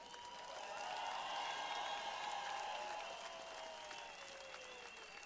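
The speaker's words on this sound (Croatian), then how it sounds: "Veliki aplauz za naše strelce još jednom." A crowd at a welcome reception for Serbia's Paralympic team applauds continuously for the shooters. The sustained, even clapping sounds somewhat distant and swells slightly before settling, with a faint background hum.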